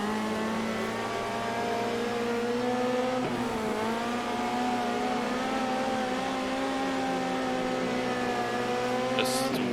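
Midget race car engine screaming at full throttle in a World of Outlaws dirt racing game, a steady high-pitched whine held throughout with a brief pitch dip, plus a short squeal near the end.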